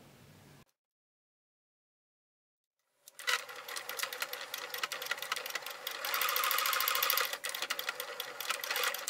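A sewing machine stitching fabric for a card holder along the edge starts after a brief bit of room sound and a pause, then runs as a fast, close, steady mechanical chatter that speeds up midway.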